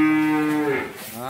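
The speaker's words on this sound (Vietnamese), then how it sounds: "con bò này anh chủ nhà muốn bán với giá là 30 triệu" A cow on a Ben Tre cattle farm gives a single long, close moo, droning steadily before sliding down and fading out, with no talk over it.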